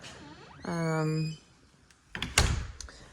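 An older front door at the entrance of a renovated mountain house opens with a long, drawn-out hinge creak, followed after a short pause by a louder thump and rattle close by.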